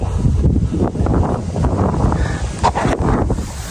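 Wind blows across a rice field at harvest time, a loud, steady rushing roar that buffets the microphone with gusty swells and dips throughout.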